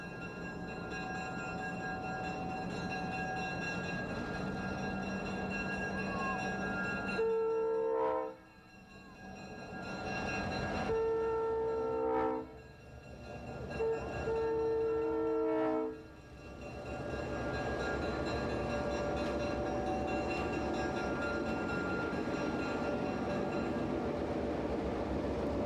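A train on former Western Maryland track near New Windsor, Maryland, rumbles steadily at moderate distance while its horn sounds several long blasts in a sequence, then the rolling noise carries on alone.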